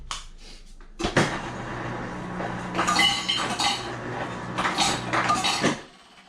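Several ice cubes clink and rattle against a blender jar being filled with a morning shake, a few sharp knocks followed by bursts of clattering, close and fairly loud with no talking.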